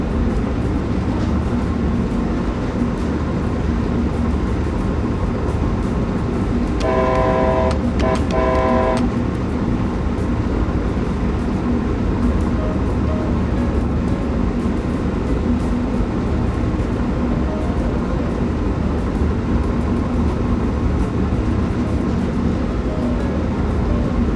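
An Amtrak Northeast Regional train runs in a train simulator game with a loud, steady rail rumble throughout. Around the middle, two close horn blasts sound in quick succession.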